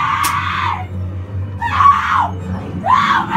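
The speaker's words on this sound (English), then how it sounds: "That's a scream." Screams at a Halloween haunted attraction at a Cedar Fair park: three loud, close, drawn-out shrieks, each rising then falling, separated by short gaps over a low background hum.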